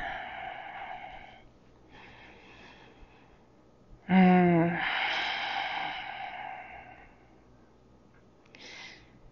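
Deep breathing during a yoga session: a slow, airy inhale, then a sudden loud, rough snort-like exhale that trails off into a long breathy release, fairly close, with a faint breath again near the end.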